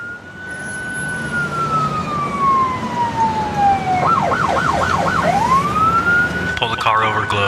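A police car siren wails loud and close, a long falling tone breaking into a rapid yelp warble, then rising again as another warble starts, over faint engine rumble.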